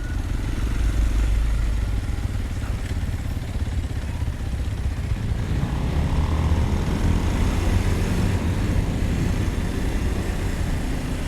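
A Kawasaki KLX230 dirt bike ridden off road on a path in Bali, its engine giving a steady, close, rumbling drone with constant rattle and wind throughout, no voices.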